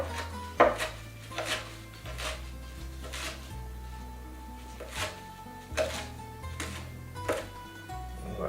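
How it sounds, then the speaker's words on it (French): Large fresh leaves are coarsely sliced with a knife on a cutting board, giving about a dozen firm, evenly spaced chops close by, with soft scraping between strokes. "Donc on va ciseler ça assez grossièrement"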